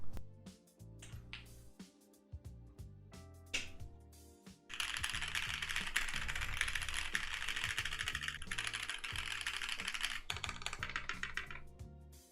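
Rapid clacky keystrokes on a keyboard fitted with Konpeitou palm-stem switches, starting as scattered close taps and then running into a dense, continuous burst of typing.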